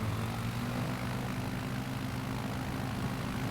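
Propeller aircraft engine droning steadily at high power during a takeoff run in Microsoft Flight Simulator, a continuous loud hum with strong low tones and no voices.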